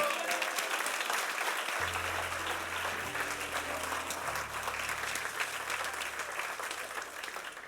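A church congregation applauds with steady, sustained clapping, and a low sustained organ or keyboard tone enters partway through beneath it.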